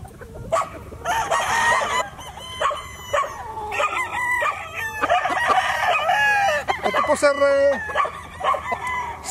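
Pumpkin hatch gamefowl at Rainbow Gamefarm in Calaca, Batangas crow loudly and repeatedly, close and overlapping with clucking from other birds, while someone speaks briefly.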